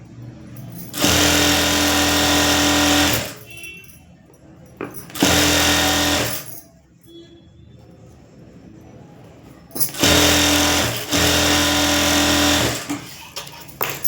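An electric sewing machine stitches a blouse hem in three bursts of steady, close whirring and rapid needle clatter, each lasting two to three seconds, separated by quieter pauses with faint handling of fabric.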